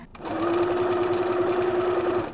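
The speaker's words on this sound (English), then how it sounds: "I'm going to backstitch at the top and end so that it gets extra secure." A sewing machine backstitches through the pieces of a duffle bag, a steady, close and loud run of rapid stitching with a sustained motor hum. It stops briefly at the start and stops again at the end, with no talking.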